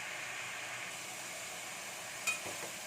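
Chili powder and turmeric sautéing in hot oil for eggplant peratal, a steady soft sizzle heard close and alone, with a faint clink near the end.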